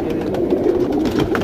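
Pigeons of a coloured fancy breed cooing at close range, a continuous low, throaty rolling coo filling the space with a steady loud murmur.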